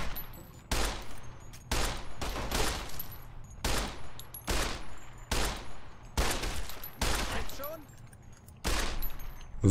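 Pistol gunshots in Fallout New Vegas, a rapid series of about ten loud, sharp reports in an uneven rhythm, each followed by a brief ringing tail.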